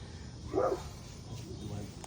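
A pet dog, upset at another dog walking by, gives a single short, faint bark, then soft whining or rustling against a quiet outdoor background.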